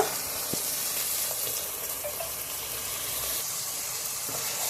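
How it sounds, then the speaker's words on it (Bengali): Tomato paste hits a hot pan for a homemade Bengali egg korma with potato and pointed gourd, giving a steady, soft hissing sizzle that holds evenly throughout with no talking. "এখন টমেটো বাটাটা দিয়ে দেব।"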